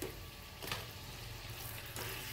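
Bhagar puris frying in oil during Navratri cooking give a brief, steady close sizzle with faint bubbling and a couple of soft bursts of spatter.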